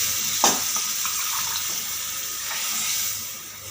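Mixer jar rinsed and the water poured into a cooking pot: a steady, close rush of pouring and splashing water lasting the whole few seconds, with a small knock near the start.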